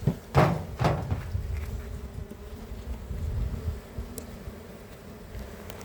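A few loud close thumps at the start, then a low steady buzzing drone of many honeybees around a hive during an early-April hive inspection, faint and continuous.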